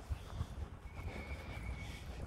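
A horse whinnies over steady low rumbling background noise, with faint clip-clop hoof sounds; the call is moderately distant and fairly quiet.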